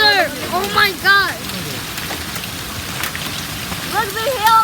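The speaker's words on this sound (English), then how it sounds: "Hail. This is hail. Oh my God, it's hail." Heavy rain mixed with falling hail drums steadily on outdoor surfaces, a dense continuous patter, while a person speaks excitedly over it in short bursts at the start and end.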